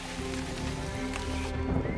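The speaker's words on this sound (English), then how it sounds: "in May and June, thunderstorms are frequent, and it rains incessantly" Heavy, incessant rain pours down during a May–June thunderstorm season in the wild, a dense steady hiss of drops on surfaces that carries on unbroken and fairly loud throughout.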